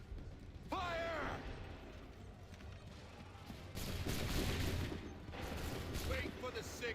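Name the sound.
musket volley fired by soldiers, from video game Assassin's Creed III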